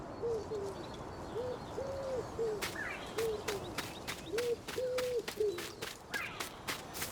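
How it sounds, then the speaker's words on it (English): A dove coos repeatedly in the ambience of a video game map set near Nelspruit, South Africa: soft, evenly spaced hooting calls in a quiet outdoor bed, with sharp clicks and other faint birdsong later on. "Listen to the dove."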